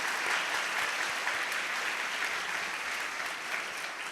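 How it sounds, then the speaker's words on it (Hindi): A congregation at a Father's Day Sunday Mass breaks into steady, dense applause for the fathers, a continuous wash of many hands clapping that fades slightly toward the end. "आपकी भरपूर तालियों में सब वालिदों को हम मुबारकबाद पेश करते हैं"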